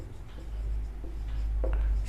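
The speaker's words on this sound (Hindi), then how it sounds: "अब हम लिखेंगे" Pen or chalk writing out a maths induction proof, soft scratchy strokes over a low steady hum, close and quiet, with a slightly louder scrawl near the end.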